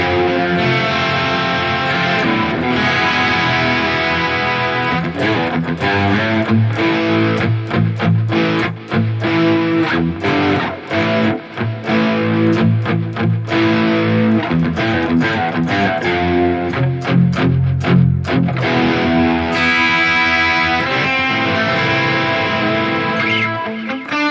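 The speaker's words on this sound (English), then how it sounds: "if you activate here this detune effect, maybe deactivate here the distortion, you get a nice crunch tone" Electric guitar through a Mooer GE300 playing chords and riffs with a crunchy, mildly overdriven tone and a thickening detune shimmer, steady and loud throughout.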